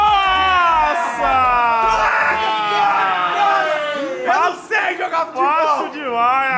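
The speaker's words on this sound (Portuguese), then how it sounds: "a torcida vibra ali" A stadium crowd roars and chants in a FIFA football match played on PlayStation, a loud, sustained wave of cheering and whooping that swells and dips, with friends talking over it.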